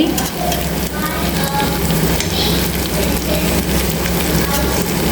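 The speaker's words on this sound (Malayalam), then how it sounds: "നന്നായിട്ട് വഴറ്റിയെടുക്കാം" Spices and curry leaves sauté in a hot pan for a traditional Kerala lunch, giving a steady close sizzle and crackle with occasional stirring scrapes throughout.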